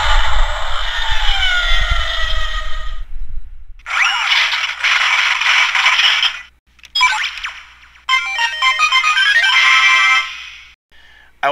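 Electronic sound effects from a Kamen Rider Gaim Sakura Hurricane toy bike play as a series of loud, bright bursts. Sweeping synthetic tones, ratcheting mechanical clicks and ringing jingles are separated by short silences.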